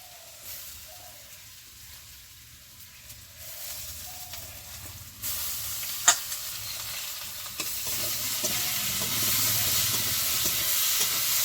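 Spices sizzle and fry in a pan while fish cooks in a Bengali dudh kochu curry, a soft steady hiss that swells louder midway, with faint stirring clinks.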